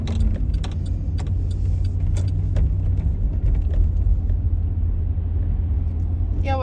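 Car driving along a road in Ohio, a steady low engine and tyre rumble filling the whole stretch with small interior rattles over it, loud and close from inside the cabin.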